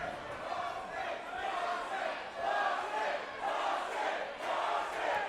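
Arena crowd at a boxing bout cheering for the hometown Boston Butchers against LA Elite, a loud roaring mass of voices that swells and surges in waves across the hall.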